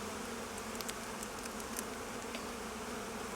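Honey bees buzz steadily in an open hive during an inspection, a dense continuous drone with a few sharper individual bee passes rising above the hum.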